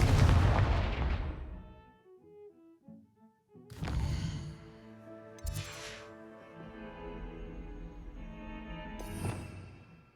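A Confringo blasting spell in Hogwarts Legacy goes off in several sharp booming bursts, each with a ringing magical tail, spaced a few seconds apart against a quiet musical background.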